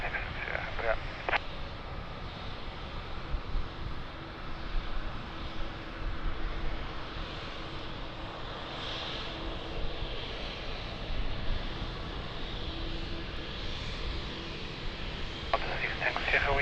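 An airliner lines up on runway 02 at Lisbon Airport, giving a steady, distant jet-engine roar that holds for the whole stretch, with faint voices in the background.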